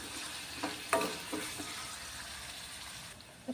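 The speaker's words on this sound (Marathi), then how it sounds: "आता हलकासा कलर बदलेपर्यंत कांदा परतून घ्यायचा आहे।" Onion being sautéed in the tempering for sambar, a soft steady sizzle throughout, with a couple of brief stirring scrapes near the start.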